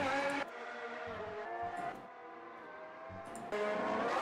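Race cars in the sim racing game Automobilista 2 roar past with high revving engines, gear shifts cutting the tone at intervals, a loud close car sweeping through and fading before another surges in near the end.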